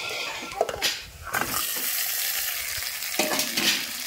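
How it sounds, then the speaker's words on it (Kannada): Eggplant pieces frying in hot oil for a Kannada-style stuffed green brinjal dish, with a steady sizzle broken by a few scraping stirs of the pan, close and moderately loud. "ಈಗ ಬದ್ನಿಕಾಯಿ ಹಾಕಿ ತಿರುಗಬೇಕ್ರಿ. ಎಣ್ಣೆ ಒಳಗೆ ಒಂದು ಸ್ವಲ್ಪ ಬದ್ನಿಕಾಯಿನೂ ಫ್ರೈ ಮಾಡ್ಕೊಬೇಕ್ರಿ"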